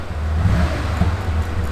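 A Porsche 911 S with a 2.2-litre engine idles and creeps in to park at a cars and coffee meet, its low, steady engine rumble close by with no talk.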